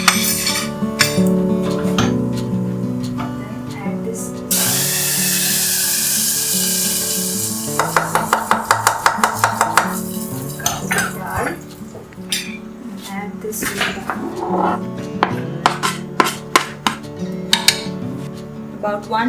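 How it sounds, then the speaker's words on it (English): Cumin seeds and dry chilies splutter in a hot pan with loud, close crackling and rapid popping, a burst of sizzle mid-way and clinks of a utensil against the pan, under a speaking voice. "Let the jeera splutter."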